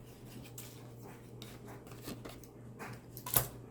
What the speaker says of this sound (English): let me go ahead and try to cut this like almost straight